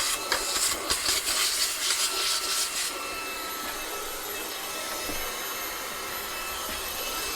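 A Fanttik V10 APEX cordless vacuum cleaner runs steadily with a high, airy whine, its pitch wavering and surging during the first few seconds before settling into a constant drone.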